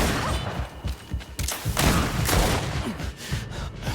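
Grenade explosions and gunfire in the fantasy action game Greedfall: a dense fusillade of close, loud booms and shots erupting in quick succession, with heavy thuds overlapping for the whole stretch.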